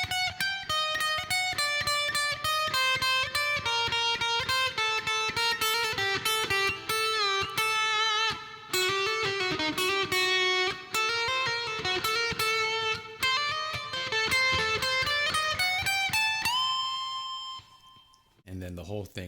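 A distorted electric guitar plays a fast solo line, with bent, sliding notes that rise and fall, loud and up close. It ends on a held note that fades out.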